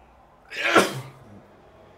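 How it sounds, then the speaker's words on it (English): A single loud, close sneeze bursts out sharply in an otherwise quiet indoor room, then fades quickly into silence. "I need to sneeze a lot."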